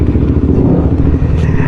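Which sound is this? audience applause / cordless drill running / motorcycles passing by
motorcycles passing by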